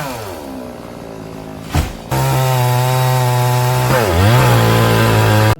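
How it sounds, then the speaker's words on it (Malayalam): A chainsaw cuts down a mahogany tree, its engine revving loud and close with a steady droning pitch after a brief idle, dipping and rising as the blade bites into the wood. "ഇനി അതിനുശേഷം മരം മുറിക്കലാണ് മെയിൻ പരിപാടി."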